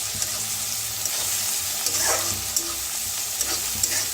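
Crushed ginger, garlic and green chili roasting in a pan, a continuous close sizzle with light periodic scrapes and taps of a spoon stirring the mixture.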